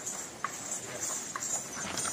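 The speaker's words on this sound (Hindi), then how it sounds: "आप में से बहुत से कम लोगों ने देखा होगा ऐसा घोड़ी को नाचते हुए" A mare being made to dance gives a few light, sparse hoof clip-clops, quiet and somewhat distant, alone under a steady high-pitched background hiss.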